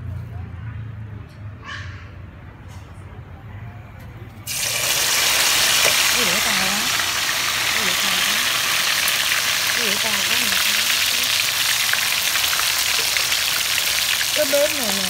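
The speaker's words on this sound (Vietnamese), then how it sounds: "Cái dầu nóng rồi mọng cho sườn non vô chiên nha mọi người" Pork ribs dropped into hot oil burst into a loud, steady sizzle after a quieter opening, the frying hiss continuing throughout while someone talks over it.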